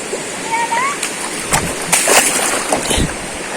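A waterfall at a rocky swimming spot in General Nakar, Quezon, a steady broadband rush of falling water with brief splashy bursts, close and constant, with people talking over it.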